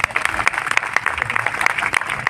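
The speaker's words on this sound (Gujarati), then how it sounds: "તાળીઓ તો પાડો" Applause from the audience at a government college's 25th annual function, with dense, continuous clapping filling the hall throughout and faint voices mixed in.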